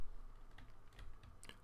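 Computer keyboard keys are pressed a few times in quiet, sparse clicks over a low background hum, close but faint, with no talk.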